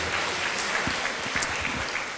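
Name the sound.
church congregation clapping to thank God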